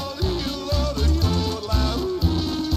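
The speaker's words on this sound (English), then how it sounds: "you've got terrible music that plays on a loop." Cheap, looping background music from the Wii shooting gallery game Chicken Shoot, a busy, dense synthesized tune with a thumping bass pulse, playing steadily and fairly loud with no voices over it.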